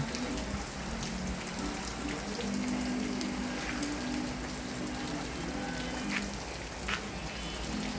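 Steady morning rain falls outdoors as a continuous soft hiss with a few brighter drips, evenly loud throughout with no talking.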